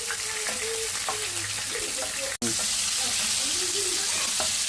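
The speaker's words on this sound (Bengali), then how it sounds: "আমি চিংড়ি মাছটা একটু ভেজে নেব" Shrimp, some with skin and some without, frying in a pan with salt and turmeric, giving a steady close sizzle with light crackles and stirring scrapes, briefly cut off by a short drop to silence midway.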